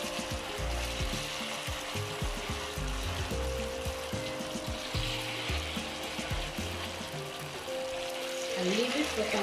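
Bhajia batter fries in hot oil, a steady close crackling sizzle running throughout beneath a person talking, with music tones in the background.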